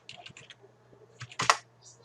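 A few quick keystrokes on a computer keyboard as a command is typed in Autodesk Advance Steel, with light clicks followed by a louder cluster of key presses near the end, heard alone.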